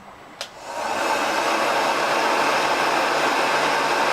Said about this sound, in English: I'm going to go ahead and fire the heat gun back up